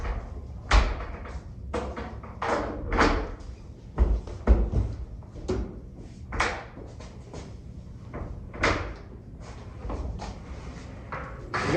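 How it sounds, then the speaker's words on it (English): Cabinet doors fitted with Blum hinges snap onto their clips during a cabinet installation in a New York conference room. A close series of sharp clicks, knocks and thuds repeats irregularly throughout. "You just push them in there and pop them into place. And then put the door up. These just snap onto the clips on the cabinet."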